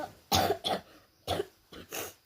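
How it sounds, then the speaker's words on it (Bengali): Four close, loud coughs in irregular bursts with brief pauses between them, the first few harsh and the last softer. "আমার অনেক কাশি"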